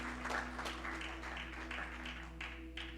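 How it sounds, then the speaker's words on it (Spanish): A church congregation at an evangelistic service claps in applause, a faint, somewhat distant patter of hands over a steady low electrical hum. "denle un aplauso al Señor"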